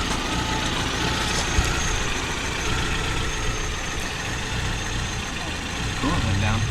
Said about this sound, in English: So we got the car running